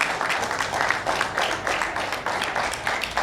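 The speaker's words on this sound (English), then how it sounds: "give your parents a round of applause" An audience claps in sustained, dense applause, loud and close, a crowd of many hands clapping steadily with no voices standing out.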